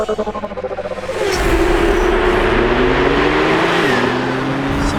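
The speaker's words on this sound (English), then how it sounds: "here we are now driving the GT3 991" A Porsche 911 GT3 (991) sports car pulls away, its engine idling with a pulsing throb before swelling into a loud, sustained acceleration whose pitch climbs and shifts through a gear change, heard from inside the car with no talking.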